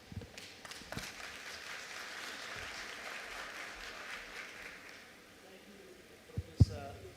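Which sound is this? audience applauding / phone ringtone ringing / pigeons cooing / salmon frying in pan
audience applauding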